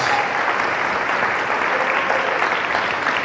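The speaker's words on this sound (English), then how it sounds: "This is your applause" Sustained applause from an audience after a keynote speech by Fernando Carro, a dense, steady wash of clapping filling the room at full strength from start to finish.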